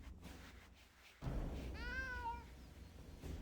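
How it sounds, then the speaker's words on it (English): A cat meows in the RuneScape video game, a single drawn-out harmonic call over steady game ambience and background hum. "He just meows?"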